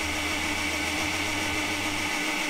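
A blender runs with crepe batter of milk, water, eggs and flour inside. It gives a loud, steady whirring motor drone with a low hum, continuous throughout and close by, with no talking.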